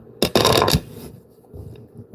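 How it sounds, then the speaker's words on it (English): Scissors drop onto a surface during a cardboard box PC build, making a sharp, loud clatter with a brief rattle. A short crackle follows, then quiet handling noise. "The scissors just went down."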